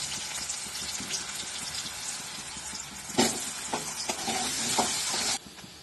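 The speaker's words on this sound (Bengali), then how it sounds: "এবার আলুটা ভেজে নেব।" Steady sizzling and crackling of potatoes frying in hot oil in a pan, with a few louder pops and stirring scrapes before the sizzle drops away near the end.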